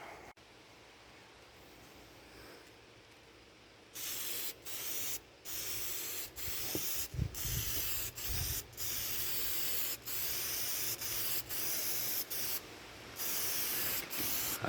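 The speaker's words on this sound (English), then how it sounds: "So I'll spray some on and you guys can see the results of that." Rust converter sprayed from a can onto the chassis of a 1998 GMC Sierra truck in repeated hissing bursts of one to two seconds with short pauses between them, close and fairly loud after a quiet opening.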